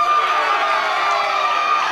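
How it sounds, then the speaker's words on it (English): A wrestling crowd at a live title match roars and cheers in a dense, steady wash of voices, loud and sustained without a break. "Jody Fleisch needs a roar of the crowd. And that's exactly what he's getting"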